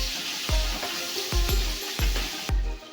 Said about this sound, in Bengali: পেঁয়াজটাকে তেলের সাথে নাড়াচাড়া করে হালকা ব্রাউন করে ভেজে নেব।